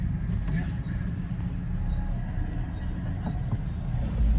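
Low diesel rumble of a MARC commuter train engine idling near a level crossing in Brunswick, a steady heavy drone throughout.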